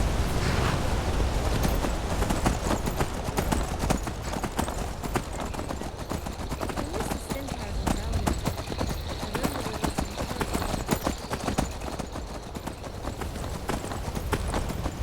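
Steady clip-clop of horse hooves in Skyrim Special Edition, continuous and fairly close, with a dense layered rumble underneath and no talking.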